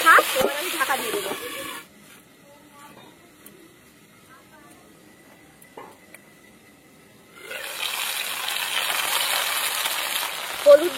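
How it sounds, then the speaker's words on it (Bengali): Gathi kochu (taro) frying in a pan, a steady broadband sizzle for the first couple of seconds, then quiet, then a loud sustained sizzle returning near the end. "গাটি কচুটা একটু ভালো করে ভেজে নিতে হবে"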